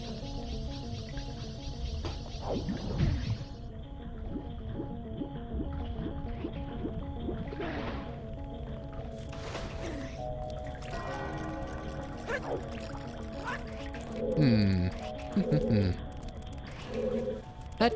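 Resonant, chiming underwater bells from the video game Zelda: Majora's Mask ring over game music and watery effects, a layered, echoing backdrop with a person talking over it.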